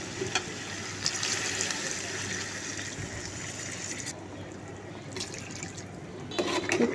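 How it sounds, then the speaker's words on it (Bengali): Water is poured into a pot of goat head curry after the spices have been fried dark, a steady trickling and splashing that runs throughout, fairly soft and close, with no talking. "এখন আমি দিয়ে দেব পরিমাণ মতো পানি"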